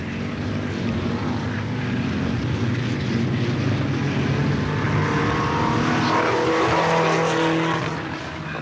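Race cars at Alwalton Raceway in a 1983 destruction derby, engines roaring continuously and loud, a dense revving drone that swells slightly before easing off at the end.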